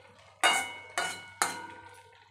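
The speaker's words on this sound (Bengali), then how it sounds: "এবার আমি ঢাকা তুলে নিচ্ছি।" A metal lid lifts and clinks three times off a cooking pot in a home kitchen where banana stem is being boiled for a rural Bengali fry with moong dal, each ringing knock close and clear over a faint hum.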